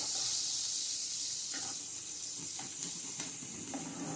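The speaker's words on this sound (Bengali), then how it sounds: "গার্লিক আর বাটারটা ভাজবো একটু" Chopped chilli and garlic fry in butter over a low flame, a steady close hiss of sizzling with a few soft stirring taps along the way.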